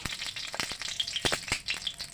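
White cumin seeds and green chilies hit hot oil for tempering, making a faint, brief run of fine crackling pops and soft sizzle, with no voices.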